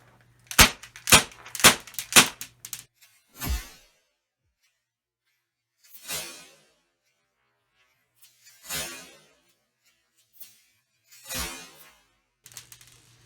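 A homemade airsoft shotgun powered by a party popper fires at about 450 FPS. A quick cluster of sharp, loud cracks comes first, followed by several single softer pops spaced a few seconds apart, with silence in between.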